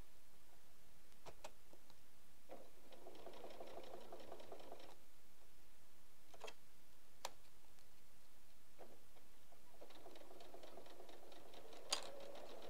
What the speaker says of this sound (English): You can top stitch this on the machine.